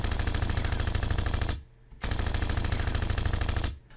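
Added gunshot sound effects play as rapid machine-gun-style bursts of automatic fire, loud and dense, broken by one short gap before a second long burst that cuts off near the end.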